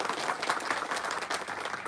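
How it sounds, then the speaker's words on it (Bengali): An audience claps for the Maharaja at a political joining programme, a steady mid-distance applause that holds evenly for the full two seconds with no talk over it. "সবাই একটু মহারাজার জন্য হাততালি প্লিজ"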